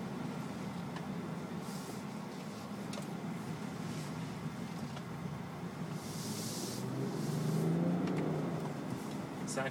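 A 2013 BMW X5 30d straight-six diesel runs steadily from inside the cabin as a smooth, continuous drone that swells slightly toward the end, with faint road noise and occasional brief hissy bursts.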